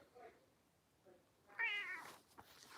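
A house cat lets out a single meow partway through, close and fairly clear over a quiet indoor background.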